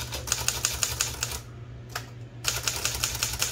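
Typewriter mechanism being worked during repair, after a gear failure: a rapid run of sharp mechanical clicks and clacks, close and fairly loud, pausing briefly midway before resuming in a quick steady rhythm.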